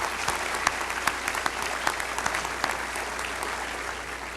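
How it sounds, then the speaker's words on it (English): Sustained audience applause fills a graduation ceremony hall, a dense steady patter of many hands clapping with a few sharper claps standing out, with no talk over it. "So I think they deserve a round of applause as well."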